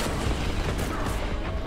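Dense, loud gunfire and blasts from the shooter game Warhammer 40,000: Boltgun fill the moment continuously, with heavy booming impacts and no pause.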